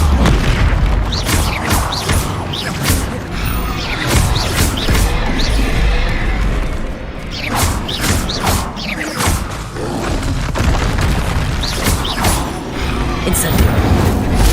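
Bombarda blasting spells in Hogwarts Legacy go off as loud, dense booms and crashing impacts, repeated over a continuous roar of combat with talking mixed in.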